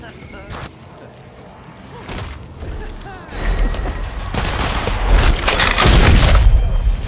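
Apex Legends Mobile gunfire crackles in rapid bursts mixed with booming impacts, sparse at first and then swelling into a loud, dense barrage in the second half.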